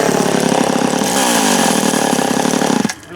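A Stihl chainsaw with a dull chain revs loud and close as it makes a test cut. The engine bogs and strains through the wood, then cuts off abruptly near the end.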